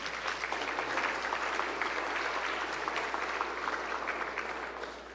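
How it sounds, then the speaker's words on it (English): A church congregation applauds steadily throughout a Christmas Eve service, a dense wash of clapping that fades slightly toward the end. "Do you realize how much work it was to get people to applaud for you?"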